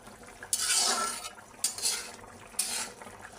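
Koi fish and cauliflower curry with potatoes, its gravy nearly dried, stirred in a pan: three bursts of scraping and clattering spoon against metal with soft sizzling between, close and without talk.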